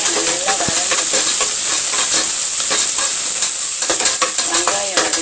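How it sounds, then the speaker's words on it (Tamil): Sliced onions with ginger garlic paste fry in a pan, a steady loud sizzle with steamy hiss and occasional stirring scrapes running throughout, no talking. "இஞ்சி பூண்டு பேஸ்ட், வெங்காயம் நல்லா வதங்கட்டும்."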